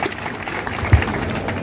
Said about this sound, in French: je demande encore au public de féliciter les différents débatteurs par les applaudissements